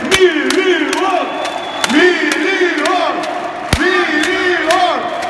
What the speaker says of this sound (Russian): А сейчас нам нужны еще более громкие аплодисменты.